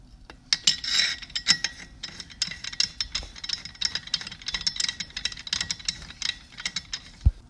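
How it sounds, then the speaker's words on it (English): Puller working the clutch off an Arctic Cat 7000 snowmobile: a close run of clicking, ratcheting mechanical taps with irregular rhythm, fairly quiet, ending in a sharp pop. "So I'm going to get my puller and pop this baby off."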